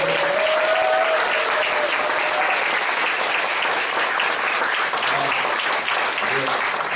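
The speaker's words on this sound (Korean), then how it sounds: "한번 뜨거운 박수로" A congregation at a Korean church service in Toronto applauds warmly and continuously after a prayer, a loud, full wash of clapping with a few voices mixed in.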